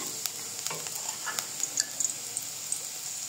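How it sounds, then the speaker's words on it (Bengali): Spices with green chilli and crushed cardamom seeds frying in a pan for a fish curry, a soft steady sizzle with light scrapes and clinks of stirring, close and fairly quiet, no talking. "হালকা করে নেড়ে নিব।"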